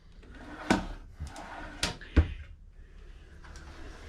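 Drawers in an Elevation Park Model tiny house slide and knock shut several times, giving a few sharp wooden thumps with softer rustling between them in a quiet room.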